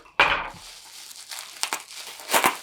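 Bubble wrap crinkles and crackles up close while being unwrapped, a sharp burst at the start followed by scattered rustles and another crinkly flurry near the end.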